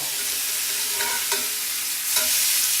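Thick pork chops sizzling in a cast iron skillet, a loud, steady close hiss broken by a few clanks and scrapes as they are turned.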